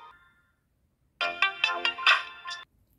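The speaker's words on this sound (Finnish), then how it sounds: "Kuka mulle nyt soittaa?" A phone rings for an incoming call, a single burst of bright electronic ringtone melody lasting about a second and a half. A faint short tone comes just before it, and the room is otherwise quiet.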